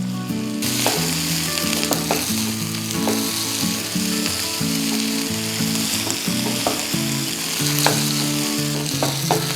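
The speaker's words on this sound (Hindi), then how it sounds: "अब हम इसमें नूडल्स डाल रहे हैं।" Noodles tossed and stir-fried in a hot pan for chicken chow mein, a loud continuous sizzle up close with repeated clanks and scrapes of the utensil against the pan, no voices.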